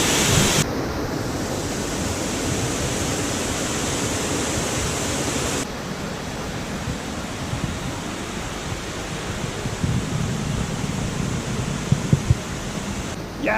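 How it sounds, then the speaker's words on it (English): Steady, loud roaring rush of the 16-metre second waterfall in the Pekel Gorge near Borovnica, Slovenia, heard close up and continuous, with some wind buffeting on the microphone. "So that's waterfall number 2"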